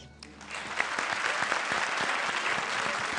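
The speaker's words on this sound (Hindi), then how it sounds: "एक बार फिर जोरदार तालियां फॉर जूही एंड वीआईपी" A studio audience at a comedy show claps in loud, sustained applause that swells after a brief quieter start and continues without voices.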